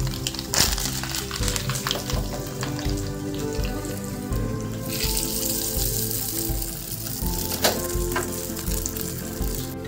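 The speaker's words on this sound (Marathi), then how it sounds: "गरम तेलामध्ये राई टाकलेली आहे" Mustard seeds, three dried red chillies and curry leaves fry in hot oil for a dhokla tempering, a dense close sizzle with crackling pops throughout.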